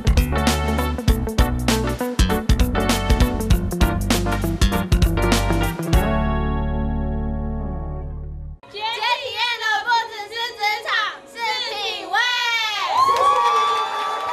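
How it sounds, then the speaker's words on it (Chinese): Senior students cheer and shout loudly as 42 job-trial trainees enter one by one. Excited whoops and yells rise after a stretch of thumping music and a sustained tone. "42位职场钢铁人在学长姐的欢呼声中一一出场"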